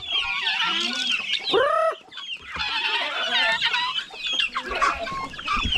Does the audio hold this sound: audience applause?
no